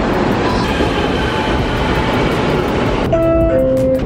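A metro train rumbles steadily, loud and close, arriving at a station, then a bright tonal squeal rises as it slows near the end.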